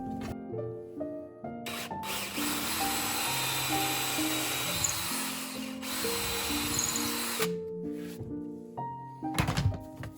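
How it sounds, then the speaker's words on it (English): A drill bores a small hole in burl wood, giving a quiet whirring and rubbing sound with a few short pauses and tonal hums, with no talking. "drill a little hole"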